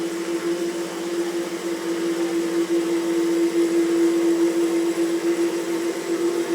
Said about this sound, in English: Now it's going to go in there and cut all the way through the part